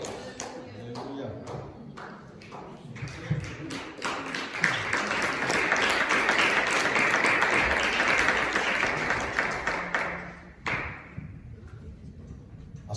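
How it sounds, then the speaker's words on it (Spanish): Congregation applause at an evening youth church service, rising after a few scattered claps into a dense, sustained round of clapping that fades near the end, with some voices underneath. "Denle un fuerte aplauso al Señor."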